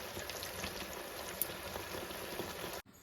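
Onion and prawn curry simmers in a pan, giving a steady, close bubbling and spattering hiss that runs evenly for nearly three seconds before cutting off abruptly.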